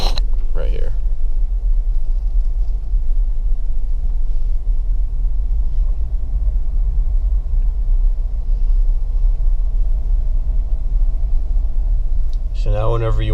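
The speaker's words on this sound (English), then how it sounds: "So now the clutch is all the way out, and I'm driving right here." Manual-transmission car driving along with the clutch fully released, its engine running as a steady low rumble throughout, heard from inside the cabin with no voices.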